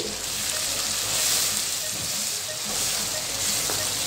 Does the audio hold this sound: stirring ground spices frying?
yes